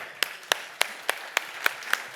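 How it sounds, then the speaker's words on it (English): A handful of people at a hoof-trimming school talk clap in a slow, evenly spaced rhythm, seven sharp claps in a row over a quiet room. "I would like to make a huge clap in order that she can listen from Wisconsin"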